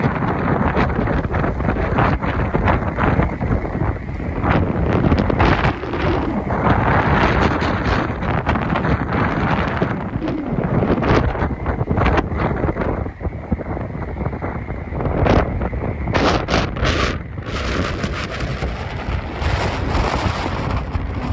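Strong wind in New York City buffets the microphone in loud, constant gusts with sharp rumbling bursts, roaring steadily throughout with no clear talk.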